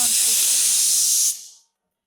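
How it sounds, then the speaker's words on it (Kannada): A kitchen pressure cooker releases its steam in a loud, close, steady hiss that cuts off sharply and fades into silence. "ಇವಾಗ ಕುಕ್ಕರ್ 2 ಸತಿ ಕೂಗಿದೆ, ಆಫ್ ಮಾಡ್ಬಿಡೋಣ ಅಲ್ವಾ?"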